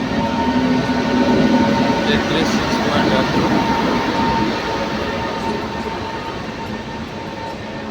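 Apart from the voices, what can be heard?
Sealdah-Lalgola passenger train arriving at station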